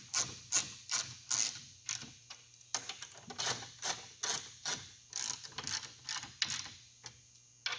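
A 7/16 wrench tightening bolts on a steel concrete form, giving a quick, close run of metallic ratcheting clicks in short bursts with brief pauses between strokes, quiet and without speech.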